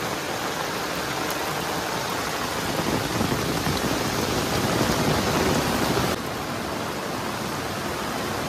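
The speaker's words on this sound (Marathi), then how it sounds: "पाऊस बघा खतरनाक एक नंबर" Heavy monsoon rain in the Konkan countryside pours down in a steady, dense roar that stays loud and unbroken throughout, easing slightly near the end.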